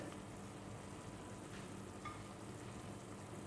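Kerala-style fish molee with cardamom and a little added water simmers in a covered pot, a faint, even bubbling and sizzling hiss that stays low and constant, with no voices.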